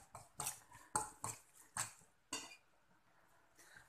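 A spoon or hand knocks against a bowl in soft, irregular thumps while ground meat, onion and egg stuffing for peppers is mixed, close and quiet.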